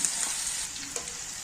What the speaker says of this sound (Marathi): हा मसाला व्यवस्थित असा आपण परतून घेणार आहोत।